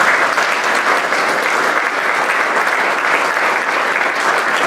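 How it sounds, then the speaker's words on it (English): Steady, dense applause from a dinner audience at a Hall of Fame banquet, loud and sustained throughout without any speech. "we honor him with a round of applause"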